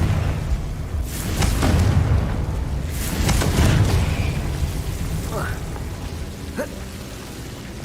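Confringo blasting spells explode in the Hogwarts Legacy video game: several booming bursts over a steady low rumble of game sound, with the biggest blasts arriving about two seconds apart and fainter pops following.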